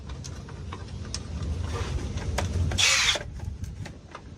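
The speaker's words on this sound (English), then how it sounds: "Now we're gonna tighten the pinch welds." A tool tightening the pinch welds while an Ekko cab step is installed on a truck, a series of small ticking clicks followed by a short, louder whirring burst near the end.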